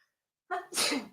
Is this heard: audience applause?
no